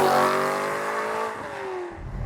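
A BMW E92 M3's naturally aspirated V8 roars loud and close, its pitch falling as it eases off, then steadying into a lower drone that rises again near the end.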